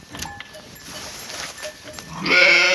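Baby goat bleating on a farm: after faint scattered background noise, one loud, wavering bleat rises near the end, close and clear, with no one talking over it.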